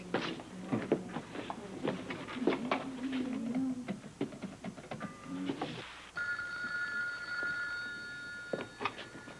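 A telephone rings in a home, its bell trilling steadily through the second half after several seconds of scattered tapping and rustling.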